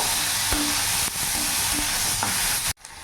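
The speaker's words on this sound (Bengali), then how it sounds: "পেঁয়াজটা একটু ভাজা ভাজা করে নেব।" Chopped onion and green chilli fry in hot oil, giving a loud, steady sizzle with a few scraping stirs before it cuts off abruptly near the end.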